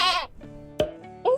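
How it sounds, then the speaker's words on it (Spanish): A goat bleats in short separate calls: one quavering cry at the start, then two brief sharper bleats, close and clear with quiet between them. "La cabra hace me me."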